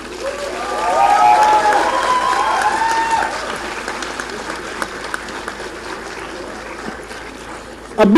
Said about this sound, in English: A big round of applause to Aditi for being the recipient of the NIFT